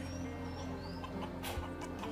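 Chickens, a rooster and a hen, cluck softly over a steady low hum, with brief scratchy bursts and faint distant bird calls in a quiet henhouse setting.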